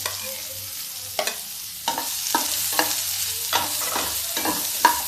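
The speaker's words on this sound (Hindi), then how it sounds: "अब प्याज को भी हल्का भून लेते हैं, जिससे प्याज की मिठास ना खत्म हो" Onions fry lightly in a pan with a soft continuous sizzle, broken by about eight close, sharp scrapes and knocks of a spatula as they are stirred.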